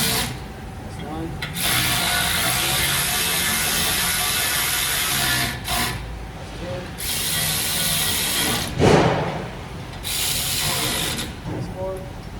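Ratchet tightening wheel nuts on a Ford Transit during a brake job, heard as several long bursts of rapid, loud clicking separated by short pauses, close up.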